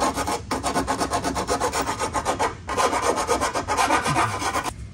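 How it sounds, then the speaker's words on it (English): A hand file rasps over a freshly cut metal part during a Lexus GX460 lift-kit install, making steady back-and-forth strokes in a quick, even rhythm with two short pauses, close and fairly loud. "We're gonna get a file and clean that up a little bit."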